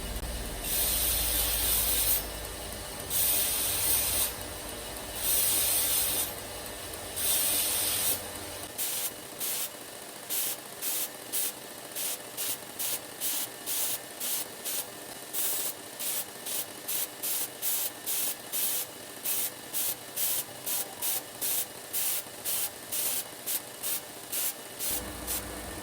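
A belt sander polishes and rounds the spine of a VG10 steel kitchen knife, starting with a few long, loud hissing passes and settling into quick, evenly spaced rhythmic grinding strokes.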